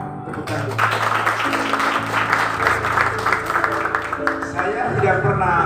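An audience at a priest's 54th birthday gathering applauds for Pater Hendro, a moderate round of clapping running throughout while sustained musical tones play alongside it.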